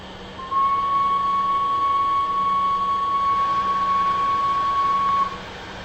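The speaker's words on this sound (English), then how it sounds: "Try sounding the whistle now." A steam locomotive whistle from Microsoft Train Simulator sounds one long, steady, unbroken blast for about five seconds over a constant low engine rumble, then cuts off.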